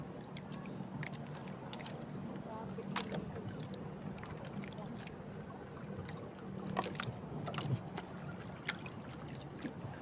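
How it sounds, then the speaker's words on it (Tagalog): Small fishing boats out on the sea at dusk, with low engine drone, water lapping and scattered knocks and splashes heard at a moderate distance over a steady background. "mga bangka na maliliit"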